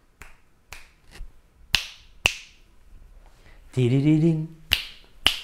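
Sharp, close finger snaps ring out one at a time in an uneven sequence, about eight crisp clicks over a quiet background, with a brief spoken voice breaking in between them.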